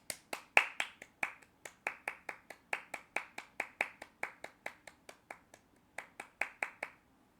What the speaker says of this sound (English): I do want to give a round of applause for him